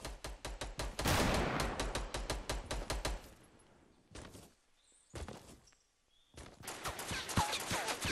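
Rapid automatic gunfire in the video game Fortnite, bursts of closely spaced shots cutting in and out in several loud volleys with brief quiet gaps between them, no talking.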